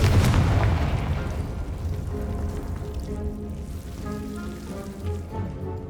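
A Confringo blasting spell in Hogwarts Legacy bursts loudly at the start and then fades into a long, crackling rumble that tails off over several seconds.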